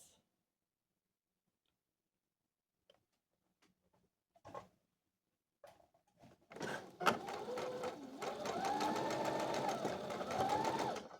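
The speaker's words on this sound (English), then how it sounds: "I've got the wrong sides together, and I'm going to just sew the shoulder parts of this." Sewing machine stitching the shoulder seams of a dress bodice made from a thrifted sheet, starting after a few quiet handling noises and then running steadily and fairly loud with a rhythmic mechanical chatter.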